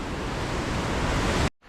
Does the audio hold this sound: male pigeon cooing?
no